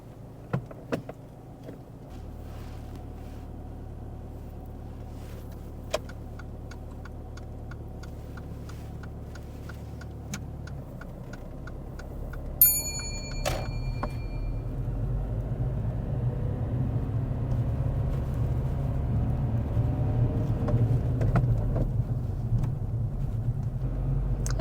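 A learner driver's car pulls away during a mock driving test, its engine rumble rising steadily from a low idle, with indicator-like ticks early on and a brief chime partway through.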